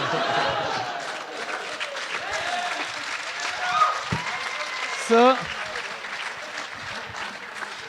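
Applause from a comedy show audience rolls under laughter and scattered voices, with a brief louder outburst midway and a voice speaking over the crowd.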